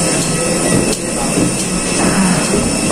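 Airport rail ride toward Yogyakarta, with the loud, steady rumble of a train carriage in motion, faint wheel squeal and rhythmic track clicks heard from inside.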